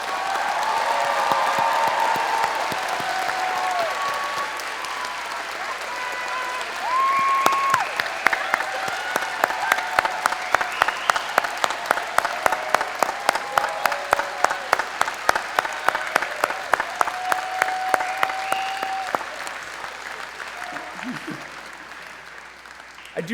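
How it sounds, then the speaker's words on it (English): A commencement audience applauding graduates, with broad crowd clapping throughout. Partway in, a loud, regular rhythmic clap pattern emerges, then eases off toward the end. Occasional whistles or cheers sound over the crowd. "You may applaud."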